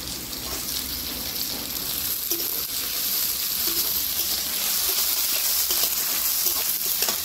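Chopped carrots and yardlong beans sizzle in hot oil for a mixed vegetable sabji, a loud, continuous close-up frying hiss with light crackle and occasional soft stirring, and no talking.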